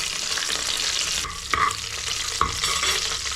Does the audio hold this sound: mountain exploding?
no